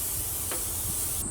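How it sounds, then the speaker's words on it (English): Spray oil hisses from a can onto doubled-over foil while preparing loaded potato wedges, a faint steady spray with a small knock at the end. "what we're going to do is spray that with a little bit of spray oil"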